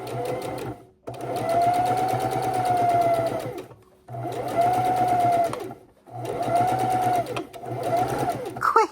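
A sewing machine stitches fabric for a pillow, running in four steady, close bursts of rapid mechanical whirring with short pauses between them.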